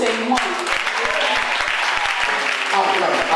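Church congregation applauding and cheering at a prophetic worship gathering, a dense steady wash of clapping with scattered distinct claps, mixed with loud shouting voices throughout.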